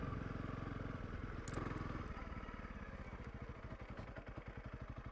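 A Honda CRF 300 Rally motorcycle pushes slowly through deep sand, its single-cylinder engine thumping in a steady low rhythm that loosens into distinct pulses as it slows, loud and close with rustling wind noise.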